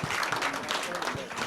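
A studio audience on a live radio-television programme breaks into brief, dense applause, a short wash of clapping with voices mixed in.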